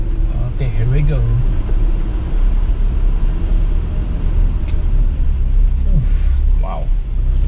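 A Jeep Gladiator is driven off-road, a steady, close, low engine rumble and drivetrain noise running throughout, with a voice talking over it.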